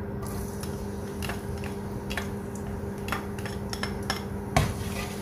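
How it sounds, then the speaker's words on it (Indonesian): Garlic sautéing in oil in a wok for Semarang lumpia filling: a steady sizzling hiss with a low hum beneath, scattered light clicks and scrapes of a utensil, and a louder clatter near the end. "Baru nanti kita tumis si bawang putih."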